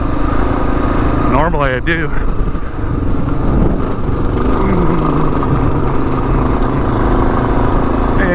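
A 2022 Kawasaki KLR 650 ridden off-road, its engine droning steadily and close throughout with a brief rise and fall in revs, while the rider talks over it.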